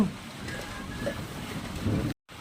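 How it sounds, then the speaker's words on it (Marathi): Heavy monsoon rain pours down in a steady, loud, broadband wash, with wind gusting across the microphone and a brief dropout near the end; no one speaks. "असला दंदर पाऊस आलाय"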